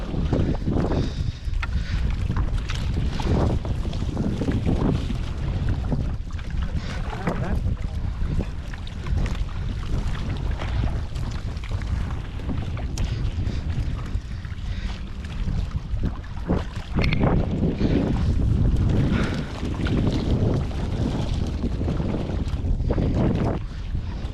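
Fishing boat on open water off Mahim Koliwada, Mumbai, after hilsa fishing, with constant wind buffeting the microphone and a low rumbling drone; voices talk intermittently beneath the noise.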